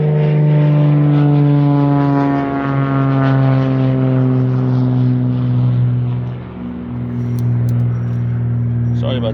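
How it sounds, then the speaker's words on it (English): Propeller airplanes pass low overhead near an airport, a loud steady droning hum with strong harmonic tones that rise and fall in pitch as the aircraft move, dipping briefly before swelling again. "Sorry about the airplanes."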